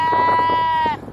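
A sheep bleats once in a long, wavering call, close and loud, from a free-roaming flock in a field near Stonehenge, then breaks off into quiet outdoor background.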